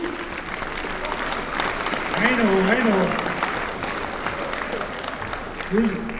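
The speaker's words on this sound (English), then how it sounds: "Please give them a hand." A high school audience at the Neenah High School award assembly claps for the seniors in a steady, full round of applause that swells slightly midway, while a voice speaks briefly over it.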